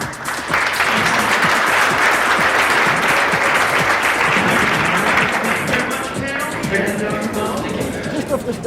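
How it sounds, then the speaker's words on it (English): An audience at a security tokens conference gives the panel a loud, sustained round of applause, a dense wash of clapping that holds steady for several seconds with crowd murmur mixed in. "Big round of applause for this panel."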